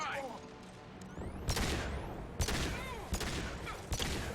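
Heavy pistol shots ring out in Mass Effect 2 combat, several sharp cracks at irregular intervals over game effects and background sound, with people talking.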